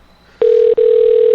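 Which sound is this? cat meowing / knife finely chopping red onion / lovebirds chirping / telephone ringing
telephone ringing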